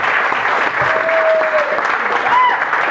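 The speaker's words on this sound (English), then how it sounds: "Give her a round of applause." Wedding guests at a toast applauding in a dense, steady wash of clapping from a crowd, with faint cheers or whistles mixed in.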